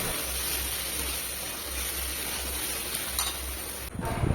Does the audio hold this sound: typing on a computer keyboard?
no